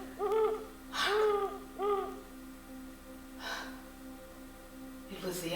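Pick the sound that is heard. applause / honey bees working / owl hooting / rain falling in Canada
owl hooting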